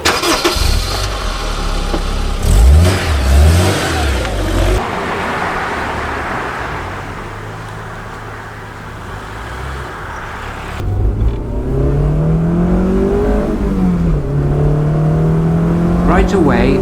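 A Honda S2000 sports car with a six-speed gearbox driving on an open road, its engine rising and falling as it accelerates, with steady road noise and a voice speaking over the drive.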